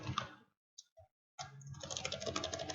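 Fingers type on a computer keyboard in close, quick bursts of clicking keys, broken by a short pause with a couple of isolated taps before a denser run of keystrokes resumes.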